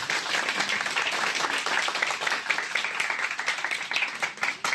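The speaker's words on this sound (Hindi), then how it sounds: "एक बार जोरदार तालियां बजाएं" Students at a Republic Day celebration break into loud, dense applause, many hands clapping together in a sustained close burst that carries on without a break.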